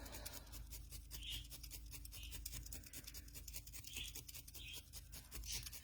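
Fine spiral felting needles jab repeatedly into wool roving to firm up the sides of a felted cube, a steady rapid stream of close, scratchy pokes and rasping strokes with no voice.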